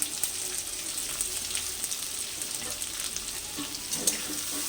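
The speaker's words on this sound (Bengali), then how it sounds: "এগুলোকে একসাথে ভেজে নেব" Chopped green chilli, garlic, capsicum and onion with cloves fry in hot oil, a continuous close hiss and crackle with occasional stirring scrapes, no voices.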